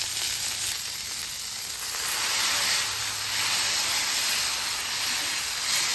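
A smash burger topped with onion sizzles on a flat-top griddle, giving a steady, loud, close hiss and crackle of frying that runs unbroken throughout with no talking.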